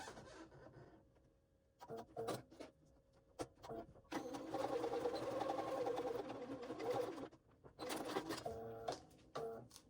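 Domestic sewing machine with a regular presser foot stitching fabric for a waist pack, running in bursts with a steady mechanical whir, loudest through the middle stretch, with brief pauses and handling noises between runs.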